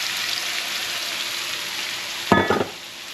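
Garlic fries in a pan with a steady, hissing sizzle, and a brief louder crackle and clatter bursts out near the end as it is moved around.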